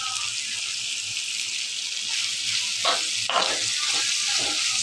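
Yardlong beans fry in a pan with a steady, bright sizzle, broken by a few scraping stirs near the end, and no one speaks.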